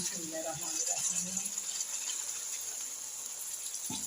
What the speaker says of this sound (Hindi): मैं पानी डाल रही हूँ।